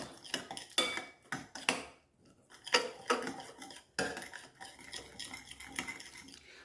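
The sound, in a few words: mixing salmon marinade in a dish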